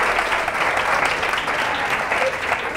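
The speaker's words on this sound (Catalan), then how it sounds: "Un aplaudiment per elles." A studio audience applauds a school team of girls at a Catalan television quiz show, a dense, steady burst of clapping that holds at full strength throughout.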